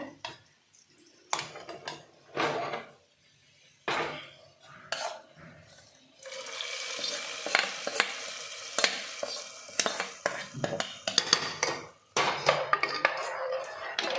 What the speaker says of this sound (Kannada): ಸ್ವಲ್ಪ ಗೋಡಂಬಿ ಸ್ವಲ್ಪ ದ್ರಾಕ್ಷಿ ಈಗ ಎಲ್ಲ ತುಪ್ಪದಲ್ಲಿ ಚೆನ್ನಾಗಿ ಫ್ರೈ ಆಗಿದೆ